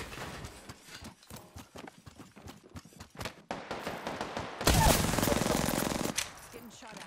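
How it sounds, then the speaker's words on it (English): Gunfire in the game Apex Legends: quick rapid bursts of shots crackle in a fast rhythm, then a dense, louder roar of fire swells near the end, with a voice speaking in between. "Getting shot at"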